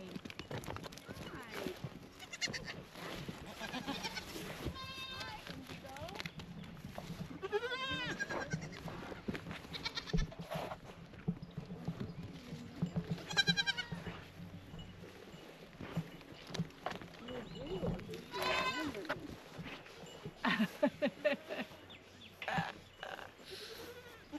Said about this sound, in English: The little baby goats